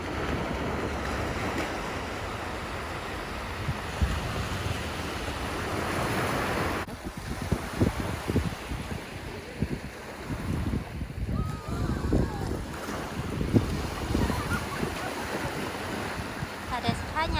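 Wind gusting along the seashore on a coastal beach in Kanagawa, Japan, a steady broadband rush with surf washing beneath it, swelling and buffeting the microphone over several seconds.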